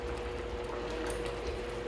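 A spicy hot pepper sauce boils in a covered pot, giving a steady, soft bubbling simmer that continues evenly, close and alone with no talk.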